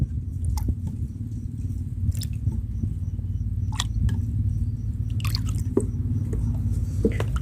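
Egg hormone liquid poured into rice water already mixed with shrimp paste, giving soft scattered drips and splashes over a steady low hum, fairly close and with no talking.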